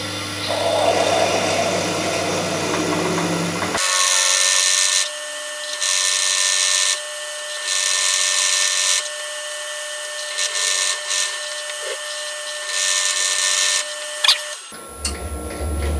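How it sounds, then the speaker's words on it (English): A power drill whines steadily at close range, its loud grinding drone pulsing and shifting in pitch as it bores through the metal top plate of a sine plate, then stops abruptly. "I'm just going to drill straight through with this."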